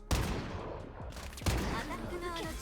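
Gunfire from the anime-style shooter Strinova, two loud close gunshots about a second apart with a dense crackle of game effects between and after them.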